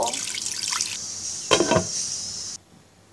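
Water pouring from a tap or jug over raw chicken pieces in a pot for boiling, two short splashing bursts close by, then quiet.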